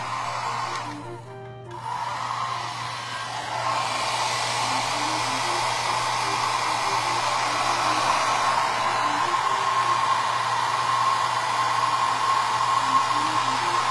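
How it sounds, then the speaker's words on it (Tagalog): A hair dryer blows steadily with a loud, even whooshing hum after a brief sputter at the start, running continuously and close. "I-blower ko lang siya para mag-seal ng konti."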